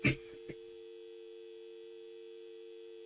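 Telephone line tone in the video game Blacksad: Under the Skin, a steady sustained electronic hum after a couple of brief clicks at the start, faint and alone.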